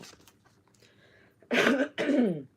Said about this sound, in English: Was that coughing again?